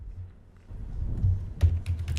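Quick burst of key presses on a computer keyboard while entering PHP session code, a few soft clicks building into denser tapping over a low background hum.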